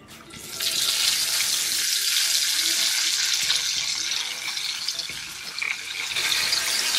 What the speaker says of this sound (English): Just to pour a little oil over the top of these, each one of these.